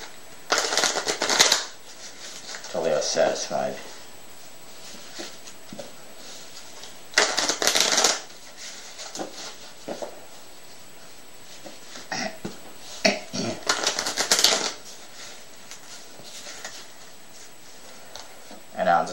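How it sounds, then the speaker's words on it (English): Playing cards are shuffled in several brisk riffling bursts, close up, separated by quieter pauses, with someone speaking briefly in between. "allow the spectator to shuffle the cards"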